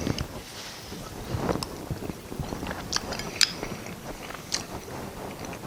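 Close chewing and biting of Texas hash eaten on its own without Doritos, with soft crunchy bites and mouth sounds repeating irregularly across the span, faint and intimate, no talking.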